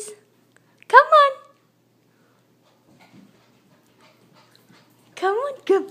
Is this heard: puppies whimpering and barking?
yes